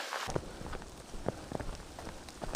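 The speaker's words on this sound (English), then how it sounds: "now it's hailing" Hail comes down on the Appalachian Trail, dense and steady, with sharper individual hits popping out of a continuous pattering close by.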